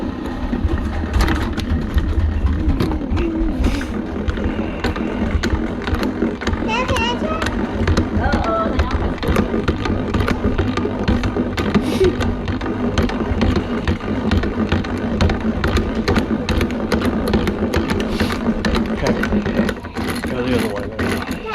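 Honey extractor spinning frames of honey during a harvest, a steady mechanical whir and rumble running throughout, with people talking over it.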